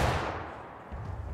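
Musket volley fire in the War of Rights video game: a loud, dense burst of gunfire at the start, fading into a rumbling tail before another swell near the end.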